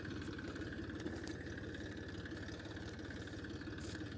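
A tractor engine runs steadily in a field during monsoon-season sowing work, a continuous mid-to-low idling drone with a faint harmonic whine, close and unchanging throughout.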